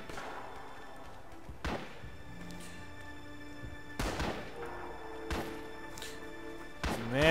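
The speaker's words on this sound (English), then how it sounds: "Man, am I being shot at." Gunfire in the video game Red Orchestra Rising Storm, several sharp distant shots spread apart over a faint steady background hum, with a louder crack near the end.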